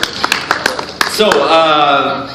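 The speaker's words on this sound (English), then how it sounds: "So, big applause to them." Audience at a Eurovision meet-and-greet applauds the Czech Republic artists, a brief run of sharp hand claps that soon gives way to a voice speaking close by.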